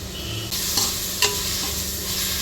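Onion pieces and carrot stir-fry in a pan for egg biryani, a steady close sizzle broken by a couple of sharp spatula clinks and scrapes against the pan, with no one talking.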